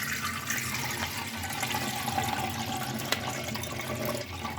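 Melted milk for phirni is poured from a pot in a home kitchen, a soft continuous liquid splash and trickle with faint clinks, fairly quiet and steady throughout.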